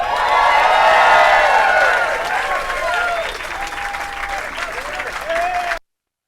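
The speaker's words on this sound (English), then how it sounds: "Please help us celebrate by cheering, and let's hear it again for Seth MacFarlane." Crowd cheering and applauding at a Hollywood Walk of Fame star unveiling ceremony, loud and steady at first, then easing slightly with whoops and shouts rising over continuous clapping until it cuts off abruptly.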